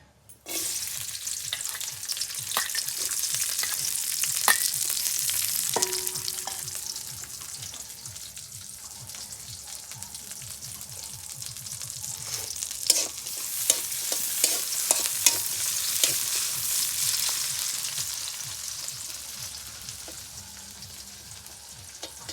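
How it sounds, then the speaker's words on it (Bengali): Chopped garlic sizzles steadily in hot oil in a pan for a greens dish, while a spatula scrapes and stirs in repeated rhythmic strokes; the frying hiss swells and fades and no one speaks. "রসুন ভাজা ভাজা হয়ে গেছে, শাক দিয়ে দিব।"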